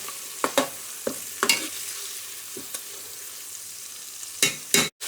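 Ginger lightly frying in a pan for a few seconds, a steady soft sizzle broken by several sharp scraping stirs, with a louder burst of stirring near the end.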